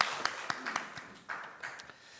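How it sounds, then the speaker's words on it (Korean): A church congregation claps in a quick, even rhythm, the separate hand claps fairly faint and regular over a soft room background. "하나님께 영광의 박수 올립니다."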